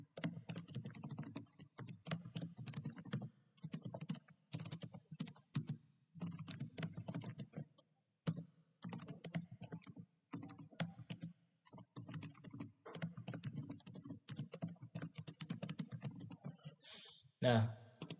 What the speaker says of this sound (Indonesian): di sini kita akan coba mengetikkan parameter seperti ini